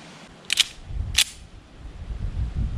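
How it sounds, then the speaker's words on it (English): Two sharp, loud reports from a Springfield Armory 1911 Range Officer pistol, about half a second apart, close by with a quiet outdoor background and no talk. "What we're going to do is we're going to try to do some shooting and kind of see how it goes."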